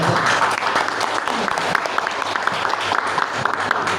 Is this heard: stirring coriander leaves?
no